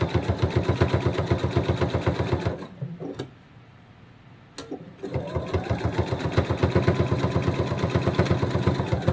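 A sewing machine stitches fabric for a flamingo plush, a fast rhythmic mechanical chatter that pauses briefly in the middle with a couple of clicks, then resumes.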